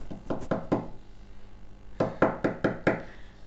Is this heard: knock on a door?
yes